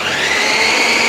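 A kitchen mixer grinder whirs continuously at high speed, blending raw mango and carrot into a chutney, loud and close with a steady motor drone.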